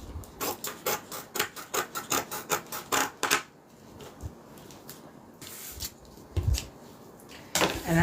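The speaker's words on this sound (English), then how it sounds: "to trim a little bit of this excess fabric." Scissors snip through excess fabric in a steady run of quick, crisp cuts, then pause before a few more scattered snips and rustles of handled cloth during sewing work, close and fairly loud with no talking.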